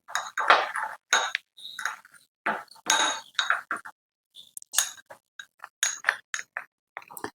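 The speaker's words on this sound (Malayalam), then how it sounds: "ഇനി നമുക്ക് നന്നായി മിക്സ് ചെയ്യാം" A spoon clinks and scrapes against a bowl while frozen rice-water ice cubes for a face pack are stirred, giving a series of bright, close, irregular taps and rattles.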